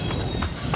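Rhythmic clacking of train wheels over rail joints repeats under a steady rumble, fairly loud and close, as the long JR East Shiki-shima train rolls through Kami-Suwa station.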